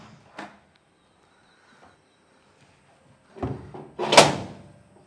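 Door or gate at a nature resort in Padur: a soft thunk early on, then after a quiet stretch a louder cluster of knocks and a sharp bang as it is moved and shut nearby, with no talk.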